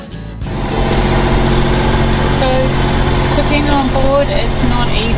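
A boat's engine drones steadily onboard during a sailing passage from Fiji to Vanuatu, a constant low hum close by, with a voice talking over it.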